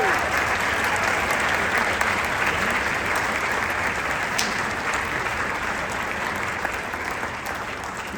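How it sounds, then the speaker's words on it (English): Dense, steady applause fills a school concert hall as an audience claps for the school administrators at a winter band concert, sustained throughout and slowly tapering near the end. "If they could stand up, round of applause."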